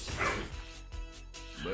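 Dogs barking and yipping in a room, fairly close, with a voice heard alongside during a game session.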